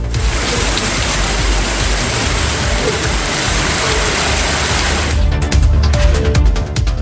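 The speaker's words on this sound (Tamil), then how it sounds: "மழை காரணமாக சுற்றுலா பயணிகள் அவதியடைந்தனர்" Heavy rain pours down in Anantnag, Jammu and Kashmir, a loud continuous wash of water on surfaces that grows choppier and more spattery toward the end.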